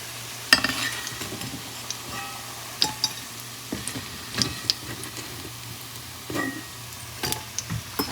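Food frying in a pan in a home kitchen during a Bengali recipe cook, with a soft steady sizzle under sharp clinks and stirring scrapes of utensil on pan, close and fairly quiet.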